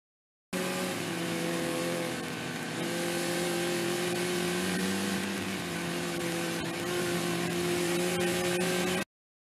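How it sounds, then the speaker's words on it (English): Race car engine on a rain-soaked city track at night, a steady, sustained engine drone with layered tonal hum, revving gently and staying even throughout, heard alone. "car racing scene at night on your"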